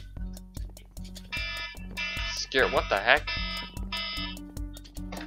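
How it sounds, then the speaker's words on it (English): A repeating alarm from Minecraft Hypixel Hide and Seek pulses in steady beeps with bright tones layered above, while a player talks and exclaims over it. "Some random alarm."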